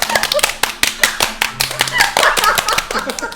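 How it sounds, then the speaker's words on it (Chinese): A small group claps hands in quick, uneven bursts at a home meal of Northeastern Chinese chicken and mushroom stew, close and fairly loud, with voices mixed in. "来，先对第一个上去鼓掌"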